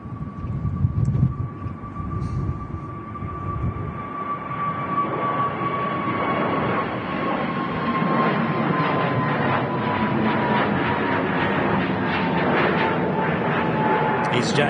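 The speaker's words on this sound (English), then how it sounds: "EasyJet A320 Neo departing there" EasyJet Airbus A320neo departing Manchester Airport, a loud continuous jet engine roar with a steady whine running throughout, holding strong across the whole stretch.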